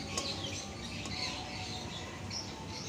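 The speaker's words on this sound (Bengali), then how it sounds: "বারান্দায় রান্না করছি পাখির কিচিরমিচির ডাকের শব্দ" Birds chirp and squawk near a balcony in Dhaka, in an area by the Turag river bank where a clay stove is cooking beef. Scattered, faint, high calls rise over a steady background hiss, with no talking.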